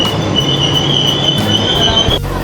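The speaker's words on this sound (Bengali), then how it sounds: "প্ল্যাটফর্ম নাম্বার 3-এ আমাদের ট্রেন এসে দাঁড়াচ্ছে এখন।" Bagh Express passenger train pulling into platform 3 at Serampore station, a steady metallic rumble of rolling wagons with a sustained high wheel squeal that cuts off near the end, loud and close with no talking.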